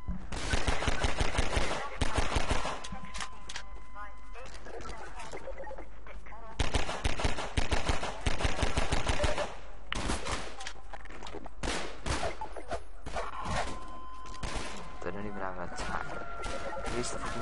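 Bursts of automatic gunfire from Half-Life 2 come in repeated rapid volleys alongside other game sounds, with someone talking over parts of the action.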